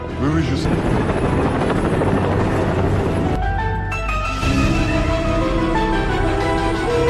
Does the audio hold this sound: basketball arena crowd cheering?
no